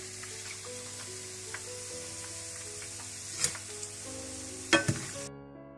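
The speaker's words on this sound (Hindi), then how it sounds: "इस तरह से आप बूंदियां बना बना के शीरे में डालते जाएं" Boondi drops of batter frying in hot oil for motichoor ladoo give a continuous close sizzle, with faint background music and a few sharp metallic clinks and scrapes near the end.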